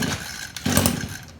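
An Echo weed eater that won't start, choke set and primed, catches briefly during a start attempt: a short, close engine burst of under a second that sputters and fades, set against pull-cord rattle.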